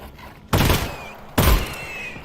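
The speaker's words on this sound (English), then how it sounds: "Burst fire for the win." Two loud bursts of gunfire from a weapon in the video game Half-Life: Alyx, close and sharp, each followed by a ringing tail, separated by a short quiet gap.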